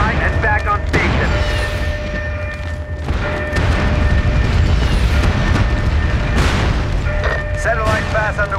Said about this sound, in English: Enemy mortars are live and back on station.